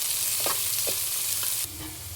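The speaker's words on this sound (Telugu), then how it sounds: "కొంచెం ఆనియన్స్, దీంట్లో బీన్స్, ఇంకా క్యారెట్ ఈ రెండు ఫ్రై చేసుకోవాలి." Onions, beans and carrots stir-frying in oil for egg fried rice, with a steady sizzle and a few soft scrapes of stirring, close and without talk.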